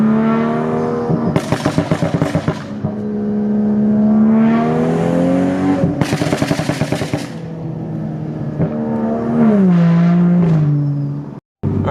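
A BMW M235i F22 revving, its exhaust crackling with rapid burble and popping backfires over rising and falling engine tones, loud and close in repeated bursts, with a brief cut near the end.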